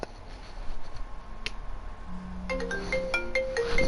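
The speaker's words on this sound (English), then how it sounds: "Oh, I'm getting a phone call." An incoming-call phone ringtone starts partway through, a bright repeating electronic melody. It plays clearly over a quiet background hum.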